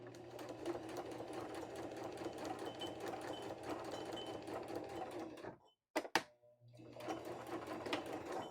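A sewing machine stitching with a twin needle runs in a steady, close whirring drone, stops for a moment with a few sharp clicks, then starts stitching again. No one speaks.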